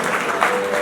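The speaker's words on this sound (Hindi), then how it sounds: "तालियां बजाओ, अनुमोदना कर दीजिए" A crowd claps in a brief, close burst at a Jain temple festival in Agra marking Lord Adinath's birth celebration and chariot procession.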